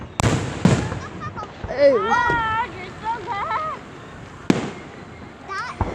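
Independence Day fireworks explode at a town display in Downingtown: a few sharp booms spaced seconds apart with crackling between, and people talking and reacting throughout.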